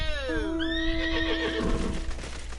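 A winged, six-legged horse mount in Final Fantasy XIV gives a loud, clear whinny that rises and falls over about two seconds, heard close up over faint game ambience.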